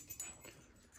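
A dog whimpers and yips in short, faint bursts at home, one of three dogs, with slushy winter conditions outside; the soft whines come quietly and close, with no talk over them.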